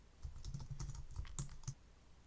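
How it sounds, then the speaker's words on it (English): Text being typed on a computer keyboard at a desk while working in Dreamweaver web design software; a quick run of close, crisp key clicks in an uneven rhythm, with no talking. "let me just type some text."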